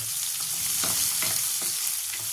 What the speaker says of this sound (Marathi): कांदा लाल होईपर्यंत फिरवायचा